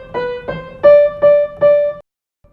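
Five clean sustained notes sounded alone on a keyboard-like instrument, the Mary Had a Little Lamb note pattern as read in treble clef, the last three repeating one pitch, followed by silence.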